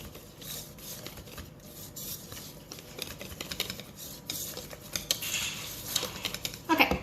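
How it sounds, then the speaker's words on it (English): Batter being mixed in a bowl with a utensil for baking, giving a steady scraping and clinking of metal against the bowl that grows louder and busier toward the end. "Just gonna mix this in."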